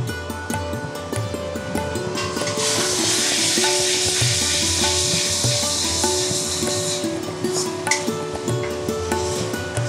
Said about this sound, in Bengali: দেখুন তেল ছেড়ে দিয়েছে, পাশ থেকে তেল বেরিয়ে এসছে। এবার আমি দিয়ে দিচ্ছি বাদাম বাটা।